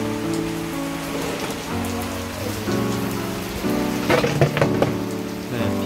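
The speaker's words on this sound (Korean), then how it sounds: "비가 지금 꽤나 많이 지금 쏟아지고 있습니다" Heavy rain pours down outdoors at an open-air gathering, a dense, constant hiss of drops drumming on surfaces with a low rumbling underlay, loud and steady throughout.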